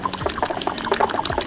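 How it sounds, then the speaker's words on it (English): A small splash of water pours into beaten eggs for a frittata, a brief close trickle and patter of liquid hitting the mixture. "I'm gonna put a little splash of water."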